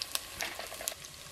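Shallots, green chilies and curry leaves fry in hot oil in a pan, a steady close hissing sizzle with small popping crackles throughout.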